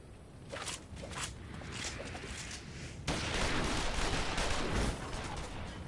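Gunfire erupts in a Final Fantasy XIV Stormblood cutscene, a rattling volley of shots that grows into a louder, sustained barrage over battle noise.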